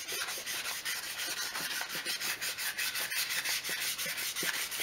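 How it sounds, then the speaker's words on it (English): A Toyota Celica alloy wheel is hand sanded to a level finish, a close, steady rhythmic rasping of back-and-forth strokes with no voices. "sand the surface down, trying to get to a nice level finish"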